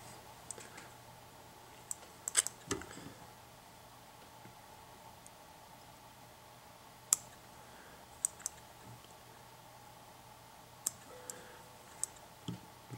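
Small scissors snip thread butt ends while tying a humpy fly, producing a few faint, sharp, close clicks scattered over a quiet background.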